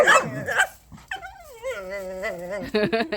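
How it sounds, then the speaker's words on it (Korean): A dog growls in a wavering, tonal rumble while someone reaches for its toy, with people talking and laughing close by before and after. "저 봐라 이빨 으르렁 한다"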